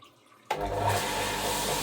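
Water suddenly gushes into a boiler being filled for a leak test before system assembly, a steady close rushing flow starting after a brief quiet moment.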